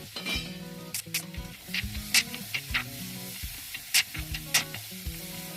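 Onions frying in a pan, with a soft steady sizzle under repeated clinks and scrapes of a spoon stirring against the pan. The stirring taps come in an uneven rhythm, close and fairly quiet.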